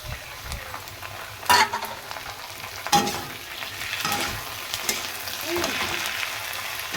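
Ginger-garlic paste sizzles in a pan with potato and onion under repeated stirring. A constant close frying hiss is punctuated by sharp scrapes and clinks of the spoon, and no voice is heard.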